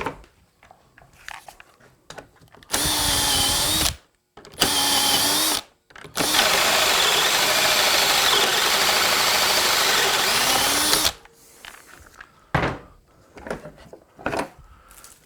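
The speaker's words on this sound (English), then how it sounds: "Drill the holes." A power drill boring holes in wood for hinge installation on a raised-panel cabinet door, running in three loud, sustained bursts with short pauses between them, the last one long, followed by softer clicks and handling noises.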